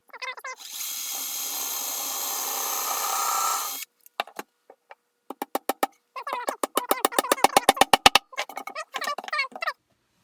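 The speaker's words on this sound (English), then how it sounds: "So I'm going to drill this one real quick" A power drill bores into a wooden Mann Lake beehive body in one loud, sustained whirring run lasting about three seconds, followed by a series of short, sharp clicks and brief bursts of handling noise.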